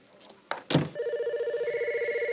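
Telephone in a TV police drama bursts into an electronic ring after a couple of clicks, a steady warbling trill that carries on loud and close with no talk over it.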